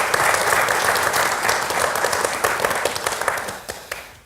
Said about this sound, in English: let's give a round of applause and welcome our panelists